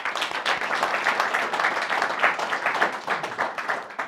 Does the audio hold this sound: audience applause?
yes